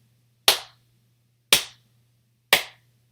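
Three sharp hand slaps on a leg, evenly spaced about a second apart, crisp and close with quick decay over a low steady hum.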